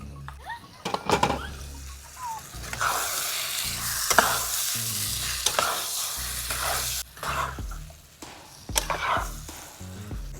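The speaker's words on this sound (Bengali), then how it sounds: "তো খুব সুন্দর করে এখন কষে নিচ্ছি" Mutton being stirred and fried in a pot at an outdoor picnic spot by a dam, sizzling under repeated scraping strokes of a spoon, with clanks against the pot, close and fairly loud.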